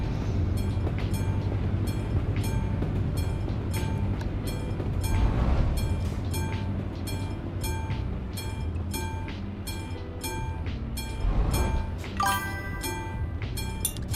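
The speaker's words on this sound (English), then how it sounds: "Another train?" A train rumbles past in the Euro Truck Simulator 2 game, a steady loud rolling drone with rhythmic wheel clicks and a few brief squeals and higher bursts across the whole stretch.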